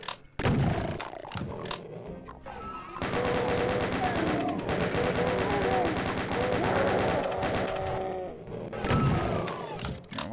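A chaingunner enemy in Doom, played in Crispy Doom, fires a long rapid burst of gunfire that runs for several seconds, loud and close, with monster growls and other game sounds around it and someone speaking at the start and end.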